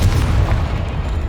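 A deep, rumbling magical blast from the Confringo spell in Hogwarts Legacy, a sustained low boom that fills the moment with no talking over it.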